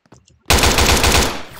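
After a quiet start with faint game sounds, loud rapid automatic gunfire erupts in a realistic gun video game and continues steadily to the end.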